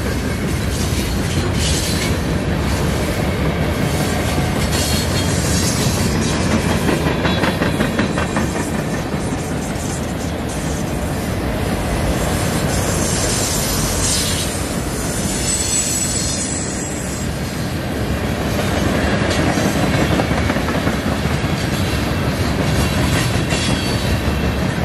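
Three CN locomotives lead a fast eastbound mixed freight train past the listener in Battle Creek, with a continuous loud roar of rolling cars, clattering wheels and intermittent high-pitched wheel squeal lasting the whole time.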